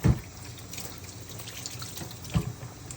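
Tap water runs into a sink while squash is rinsed, a soft steady flow broken by two brief louder splashes or knocks.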